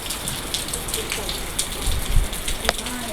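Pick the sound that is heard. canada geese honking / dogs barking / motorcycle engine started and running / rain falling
rain falling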